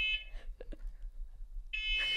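A household fire alarm sounds in two short shrill bursts at the start and end, quiet and somewhat distant, with a low hum and a couple of faint knocks between them.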